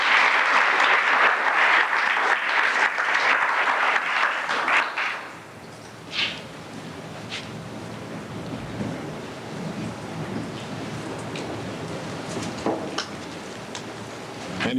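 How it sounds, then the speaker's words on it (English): An alumni event audience gives a loud, dense round of applause for nominees and award winners, lasting about five seconds before ending abruptly into quiet room tone with a few faint scattered sounds. "If we can give a round of applause for all of our 4 nominees and award winners."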